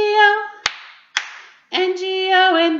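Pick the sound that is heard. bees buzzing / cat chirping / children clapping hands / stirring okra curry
children clapping hands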